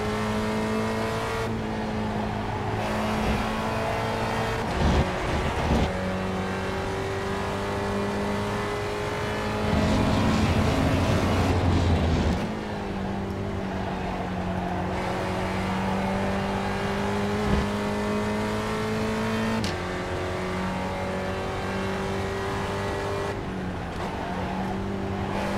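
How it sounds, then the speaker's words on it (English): A Spec Ford race car engine at Laguna Seca drones loudly and steadily from close by, its pitch rising and falling through several gear shifts, including a noisy, rougher stretch midway, with no voices. "I think I'm shifting into gear a little too early."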